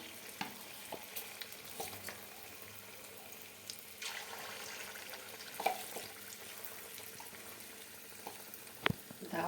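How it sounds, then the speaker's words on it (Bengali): Battered chicken pieces fry in oil with a soft, crackling sizzle, broken by scattered clinks and scrapes of utensils, fairly faint and close, without speech. "এবার আমরা এক এক করে চিকেনটাকে ভেজে নেবো"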